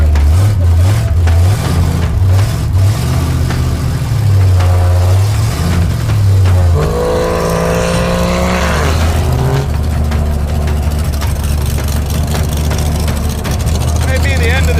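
An old drag race car engine roars loud and close, a deep throbbing note that surges and climbs in pitch mid-way before settling into a steady, heavy drone.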